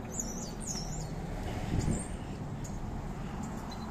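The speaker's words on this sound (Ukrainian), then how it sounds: "співають уже пташки" Small birds chirping and singing outdoors in early spring in a small Canadian town, with snow melting. A few short high tweets sound early on over a steady low background hum, fairly faint and distant.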